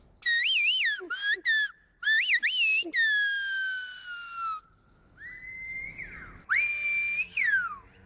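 Silbo, the whistled language of the Canary Islands, is whistled by a mountain-taught whistler in several loud, close phrases of rising and falling pure tones, some warbled, some long sustained slides, separated by short gaps, with no speech.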